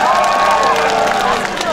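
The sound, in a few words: audience applause and cheering at a concert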